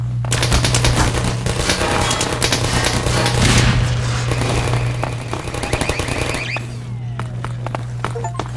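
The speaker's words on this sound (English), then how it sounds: "Take that turret down, Gordon." Sustained automatic turret fire in a Half-Life 2: Episode Two firefight, a dense, continuous loud rattle of rapid shots with a steady low hum beneath, easing off briefly near the end.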